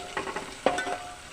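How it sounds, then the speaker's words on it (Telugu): Turmeric being stirred into curry frying in a pan: a brief close sizzle with a few quick scrapes and one sharper clink of the spoon against the pan. "పసుపు వేసుకొని ఒకసారి అంతా కలుపుకోవాలి"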